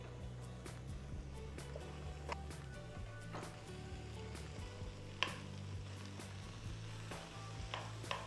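Potatoes and onion sizzle and fry in a pan, a steady close crackle with scattered small pops and occasional clicks, fairly quiet and with no voices.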